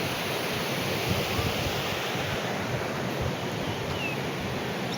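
A river swollen in flood rushes past in a steady, dense roar of flowing water that fills the scene without pause or variation.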